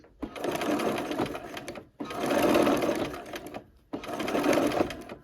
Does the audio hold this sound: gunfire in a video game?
no